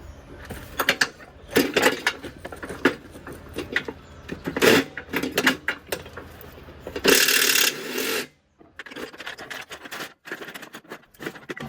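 Rapid ratcheting and rasping metal clicks in uneven bursts as a large spindle nut is worked loose from the top of a Husqvarna or Craftsman mower deck mandrel housing, loud and close with brief pauses.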